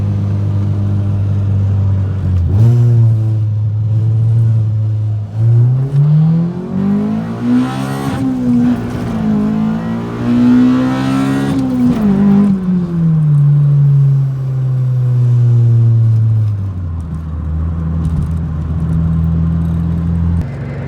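A 1996-2000 Honda Civic Si with a B16 engine and Magnaflow high-flow catalytic converter idles with a deep exhaust burble, then revs up and holds a rising drone before settling back to a throaty idle.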